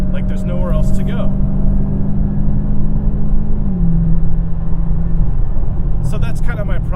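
A 2017 Dodge Challenger R/T Scat Pack V8 cruising at highway speed, a loud continuous low engine and road drone with a steady hum that drops in pitch partway through, under someone talking.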